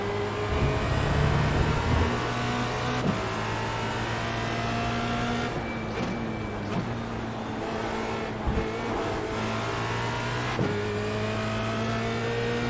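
A Formula Renault 2.0 race car engine in the iRacing simulator drones and revs through gear changes, the pitch climbing and dropping sharply on each shift over a steady high whine, loud and continuous with no talk.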